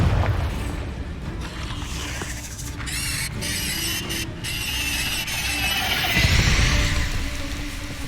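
A Confringo fire spell bursts in the video game Hogwarts Legacy, with loud booms, squealing whooshes and crackling blasts layered in a busy, continuous fight soundscape.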